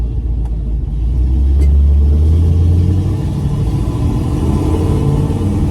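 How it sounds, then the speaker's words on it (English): A low, grumbling drone from a moving car's rear axle, swelling briefly as the engine pulls under hard acceleration and then settling into a steady rumble with no talking. "You'll hear a little grumbly noise from the back of the car."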